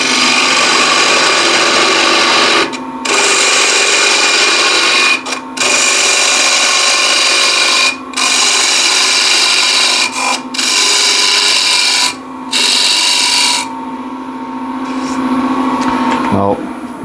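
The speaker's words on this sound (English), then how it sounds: "removing all this waste with a square end scraper" A woodturning lathe runs while a square-end scraper removes waste wood from a straight section, giving a loud continuous scraping rasp broken by brief pauses and ending with the machine winding down.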